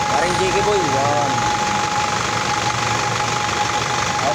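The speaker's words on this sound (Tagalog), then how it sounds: "Ito, maganda andar ng 4HG1. Pinalitan namin piston ring, piston liner." An Isuzu 4HG1 diesel engine with newly replaced piston rings and piston liners runs at a steady, even idle, a loud continuous rumble throughout, with a voice briefly heard over it at the start.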